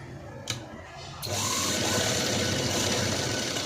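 A sewing machine stitching a blouse starts up abruptly and runs as a continuous, even mechanical whir that stays close and loud until the end, with no one talking.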